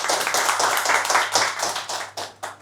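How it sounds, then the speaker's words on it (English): A group of people clap loudly in a classroom-style setting after a student's self-introduction, with brisk, uneven applause swelling and fading in waves over a couple of seconds, close and dense. "Clap for him, please, guys,"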